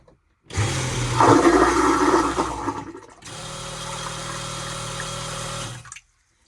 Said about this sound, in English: back in the bathroom, we have the full marine macerator toilet.